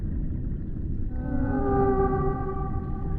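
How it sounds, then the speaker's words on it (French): Humpback whale or orca song in the icy North Atlantic, a loud, sustained tonal moan rising out of low rumbling water noise and holding steady, with no talk. "Les baleines à bosse et les orques règnent sur ces eaux glacées."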